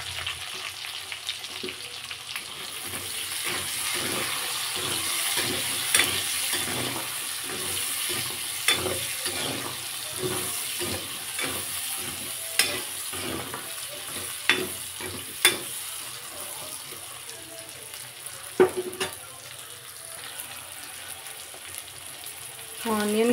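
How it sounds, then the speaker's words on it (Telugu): Onions frying in oil in a pan for paneer curry, a steady sizzle broken by many rhythmic scraping stir strokes, with a few sharper clinks near the end. "ఇప్పుడు అదే ఆయిల్లో ఆనియన్స్ వేసుకుందాం."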